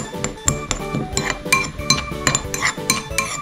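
A spoon mixes dosa batter with cheese in a bowl, making rapid, rhythmic metallic clinks and scrapes against the bowl, close and fairly loud, with no talking.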